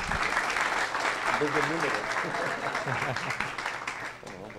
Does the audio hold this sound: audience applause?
yes